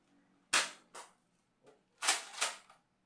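Nerf Elite 2.0 Echo toy blaster being fired, several sharp close snaps with short decays, a single shot followed by a quick pair, then a faint click and another rapid pair, with no talking.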